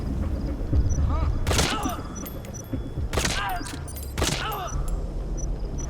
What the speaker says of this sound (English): I have a suppressor on my assault rifle